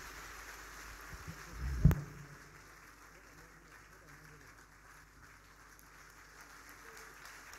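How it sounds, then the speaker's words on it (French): A church congregation applauding during a sermon, a soft, diffuse patter of clapping that stays in the background, with one brief louder thump. "Put your hands together for the Lord."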